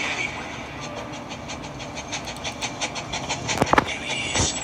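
A toy train runs along a model railway, its rhythmic clickety-clack steady and close, building toward a few sharper clacks near the end with no talk.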